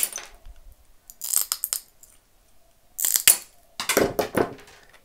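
Ceramic plate pieces being trimmed with mosaic cutting tools: sharp clicks, snaps and small clinking bursts in short separated clusters, close and fairly loud, with quiet pauses between.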